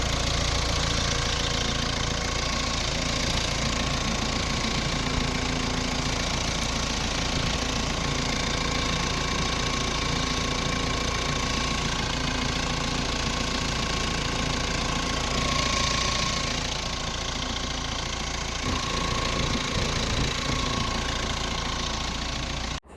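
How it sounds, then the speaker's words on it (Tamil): A Mahindra Scorpio diesel engine idles with its engine bay open, a steady, loud mechanical drone with a rough, knocking diesel clatter and vibration that holds unchanged for over twenty seconds with no talk. "மேக்ஸிமம் இன்ஜினோட நாய்ஸ் எப்படி இருக்குது அப்படிங்கிறத வீடியோவில் அப்படியே ராவாக வந்து காமிச்சாச்சு."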